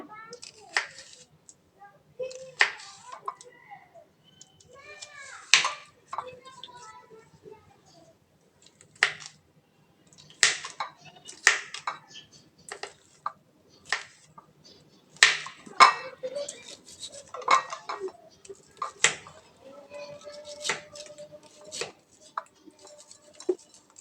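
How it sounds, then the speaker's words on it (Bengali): Knife chopping egg salad ingredients very finely on a board, a run of sharp close taps in uneven bursts with brief pauses, under a woman's intermittent speech. "এবার এটাকে কুচাই নেব। একদম ছোট ছোট করে কুচাই নিতে হবে।"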